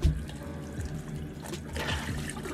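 Lukewarm water runs from a bathroom tap during a skincare routine, a steady close splashing and trickling stream with no talking.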